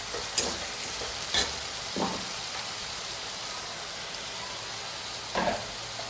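Onions, tomatoes and garlic with cumin and asafoetida sizzle steadily in a hot pan, a continuous frying hiss broken by a few louder stirring scrapes.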